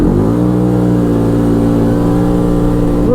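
An Arctic Cat Wildcat 1000X side-by-side launching hard: a loud, close engine roar that holds high revs steadily for a few seconds, with no one talking.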